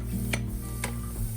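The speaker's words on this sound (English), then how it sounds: "Saute these for about 2 minutes until they no longer smell raw." Chili powder and spices sautéing in oil for a Burmese chicken gizzard curry, a low steady sizzle with a couple of sharp scraping stirs of a utensil against the pan.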